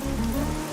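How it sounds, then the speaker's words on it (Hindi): Steady rain falls in a brief, even hiss with a low rumbling undertone, constant and without any voices. "ये बारिश है कि रुकती ही नहीं है"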